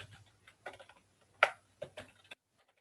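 Keys clatter on a computer keyboard in short clusters of taps with small gaps between, close and fairly quiet, with no voice.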